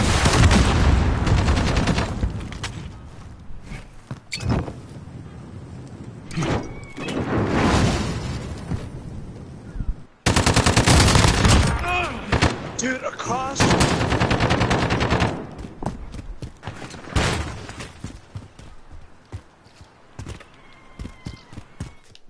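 Gunfire in Modern Warfare: loud bursts of automatic fire and single shots come in clusters separated by brief lulls, with a sharp cut partway through, close and dominant throughout.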